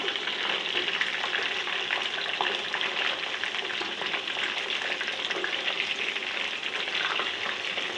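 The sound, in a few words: chicken drumsticks deep frying in oil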